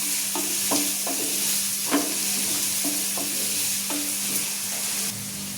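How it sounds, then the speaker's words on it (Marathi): Onions frying in a covered pan until reddish-brown, a steady even sizzle punctuated by a few regular spatula taps and stirs, close and moderately loud, no voices. "आता कांदा झाला लाल, आपण आलं लसूण टाकून घेऊ।"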